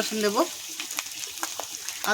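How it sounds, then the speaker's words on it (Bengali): Onion frying with ginger and garlic in a pan for a rohu fish kalia, a steady close sizzle with a few soft stirring scrapes, and a brief voice at the start and end. "আদা রসুন পেঁয়াজ একসঙ্গে ভালো করে ভেজে নেব।"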